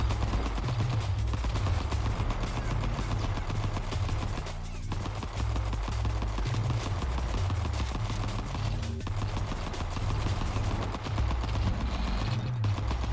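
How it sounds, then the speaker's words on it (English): Rapid machine gunfire from the video game Vital Shell hammers on almost without a break for the whole stretch, loud and dense, with only a couple of brief dips in the barrage. "Oh my god, that gunfire."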